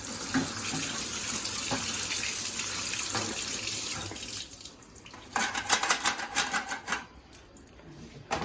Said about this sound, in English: Go over to the sink, and now we're going to rinse.